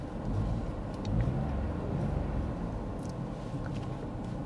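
A car engine revs up as the driver accelerates, a steady low rumble that swells briefly and then holds at a constant drone, close and continuous with no talking.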